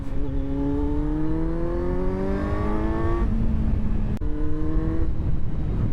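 A 2018 Kawasaki Z900 with an aftermarket exhaust accelerates hard and up close, its engine note rising steadily and then dropping at each of two quick gear changes, over constant wind and road roar.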